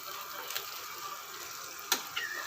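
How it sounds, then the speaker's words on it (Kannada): Chicken tikki patties frying in butter in a pan, a steady soft sizzle with a couple of brief clinks or stirring sounds, close and moderately quiet, no talking. "ಬೆಣ್ಣೆ ಹಾಕಿದ್ದೇನೆ ಫ್ರೈ ಆಗಲಿಕ್ಕೆ"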